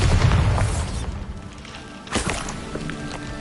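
Bombarda blast spell exploding in Hogwarts Legacy, a loud booming burst up front that rumbles and fades, followed by a second, lighter impact about two seconds later.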